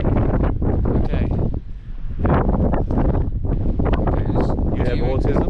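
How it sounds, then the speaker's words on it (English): Wind gusting on a blustery day in Geraldton, a steady broadband roar buffeting the microphone almost throughout, briefly easing in the middle, with people talking over it. "It's windy."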